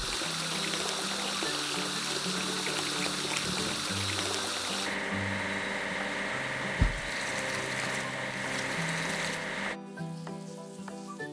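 Water spraying in a kids' train video game as a crane is washed, a continuous hissing, trickling wash that shifts in tone, with a low engine-like drone and one brief thump.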